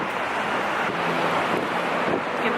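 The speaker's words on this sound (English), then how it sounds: "You can tell from my hair that the wind is strong." Strong, cold wind roars steadily across the microphone outdoors in Melbourne as a dense, unbroken rush of buffeting noise that never lets up, with no voices.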